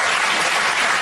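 Studio audience applauding during a televised debate, a dense, even wash of clapping that stays loud and unbroken for about a second with no voices over it.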